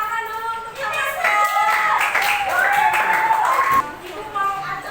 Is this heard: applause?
yes